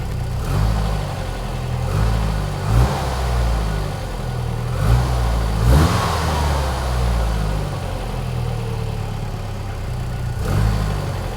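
A car engine idles just after its first start, running steadily with small rhythmic pulses and a few brief stumbles and surges, loud and close, with no talking.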